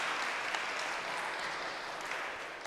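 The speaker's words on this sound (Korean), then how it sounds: "박수로 환영해 주십시오." A church congregation applauds to welcome a visitor at a Sunday worship service, producing a steady, even wash of many hands clapping throughout, moderately close and fairly quiet, with no talking over it.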